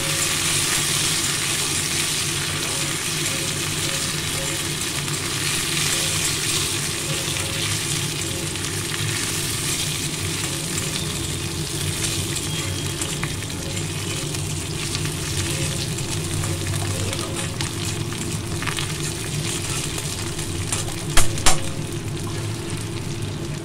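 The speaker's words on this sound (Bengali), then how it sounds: "এটা ভালো করে ভেজে নেবো" Neem leaves frying in hot oil in a pan for a bitter neem-and-eggplant dish, giving a steady, close sizzle that runs throughout with a couple of brief clinks near the end.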